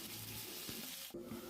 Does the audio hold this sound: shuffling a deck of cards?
no